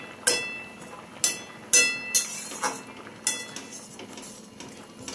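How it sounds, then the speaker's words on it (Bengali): A spatula stirs thick pineapple chutney in a metal pan, producing about seven distinct scraping clanks at an uneven pace, each followed by a short softer rattle, close and clear. "ভালো করে নেড়ে চেড়ে যতটা নাড়বেন এটা কিন্তু ততটাই মিশে যাবে।"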